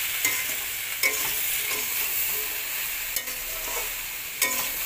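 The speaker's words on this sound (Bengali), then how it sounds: "নুন হলুদ দিয়ে নাড়াচাড়া দেবো।" A spoon stirs food frying in a pan with salt and turmeric, scraping in soft rhythmic strokes roughly once a second over a steady close sizzle, with no voices.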